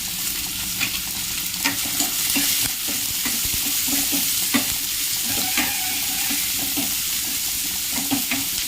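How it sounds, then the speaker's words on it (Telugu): Sliced onions and four green chilies frying and being stirred in a pan, with a steady sizzle broken by repeated scraping stirs, close and alone with no talk. "కొంచెం మగ్గాలు ఉల్లిగడ్డలు బాగా ఎర్రగా వరకు."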